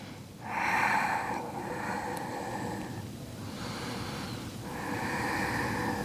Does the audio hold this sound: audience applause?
no